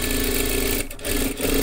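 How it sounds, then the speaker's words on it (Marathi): A sewing machine runs steadily while stitching tucks on a blouse, loud and close, with a brief dip in its whir near the middle before it picks back up. "आता शिलाई मारून घ्या"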